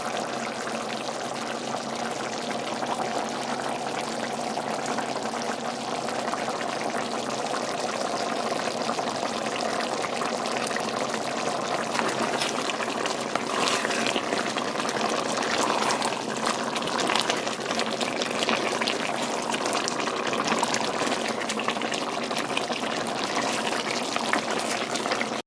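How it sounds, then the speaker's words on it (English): Water pours into a pot of stewed chicken as a sauce is being made, a continuous splashing, bubbling wash that holds loud and steady for the whole stretch with no talking. "So I just added a little more water to make the sauce."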